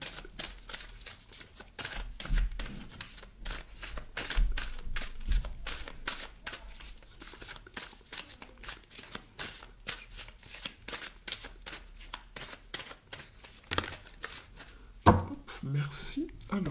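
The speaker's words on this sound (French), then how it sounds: "Alors, je remélange le jeu." A deck of oracle cards being shuffled, a steady run of quick papery riffles and flicks that continues for a long stretch at close range, with a voice speaking now and then.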